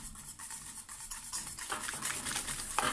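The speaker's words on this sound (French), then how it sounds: "on mélange, on récupère encore le fouet" A whisk stirs chocolate flan mixture in a bowl, giving soft continuous scraping and swishing strokes that repeat at a steady rhythm and grow brighter and busier toward the end, with no voices.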